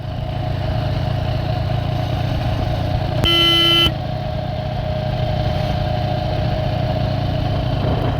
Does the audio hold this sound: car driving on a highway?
yes